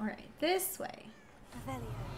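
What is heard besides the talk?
cat meowing in video game Hogwarts Legacy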